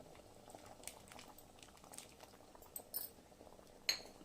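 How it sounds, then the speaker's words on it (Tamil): Tamarind water simmers in a pot of drumstick sambar, a faint, steady bubbling and popping with soft patter throughout, with no voices. "புளி ரொம்ப நேரம் கொதிக்கூடாது."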